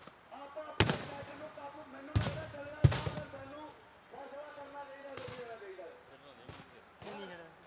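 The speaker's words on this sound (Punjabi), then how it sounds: "ਧਮਾਕਾ ਦੇਖੋ" Tear gas shells burst at a large farmers' protest near the Ghaggar river at Shambhu, several sharp booming cracks in quick succession, then fainter distant pops, with crowd voices and talk running underneath.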